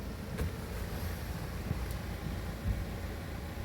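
Steady wind of about 15 mph gusting toward 20 blows over a creek near Cuba Landing, a continuous broadband rush with low buffeting rumble and a few brief gust thumps, no talking.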